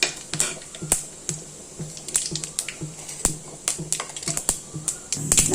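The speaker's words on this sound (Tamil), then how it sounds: "எண்ணெய் காஞ்சோன்னு நம்ம கடுகு, வெந்தயம், ஜீரகம், சோம்பு போட்டாச்சு. நல்லா பொரியட்டும்." Mustard, fenugreek, cumin and fennel seeds splutter in hot oil with irregular sharp pops and crackles, some louder than others, over a faint sizzle and no voices.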